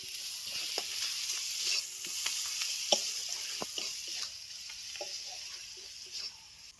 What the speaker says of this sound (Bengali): কিছুক্ষণ নাড়াচাড়া করে ভালো করে ভেজে নিয়েছি